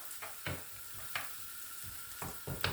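Onions with thyme frying in a pan and being stirred, a soft continuous sizzle broken by several scraping strokes of the spoon at irregular intervals, close but fairly quiet.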